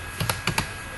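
Four quick, close key clicks on a computer keyboard in two pairs while a name is typed, crisp and alone against faint room hiss.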